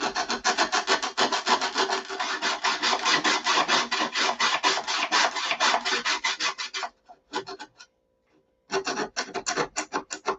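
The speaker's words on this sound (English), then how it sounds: "We're going to hollow the cowl out too." A plywood cowl for a SIG Magnum model airplane being hollowed out by hand, producing loud, fast, continuous rasping strokes close up, a short pause with a few scattered scrapes, then another burst of rapid rasping.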